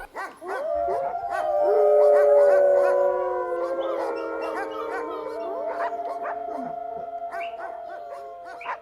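Several puppies howl together in overlapping, wavering high-pitched cries with scattered yips, close and loud, rising and falling for several seconds.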